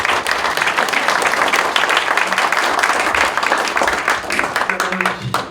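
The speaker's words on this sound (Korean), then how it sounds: "한번 박수 한번 환영하시죠" Audience applause welcoming a pastor at a Korean church New Year worship service, steady dense clapping throughout with a voice speaking over it.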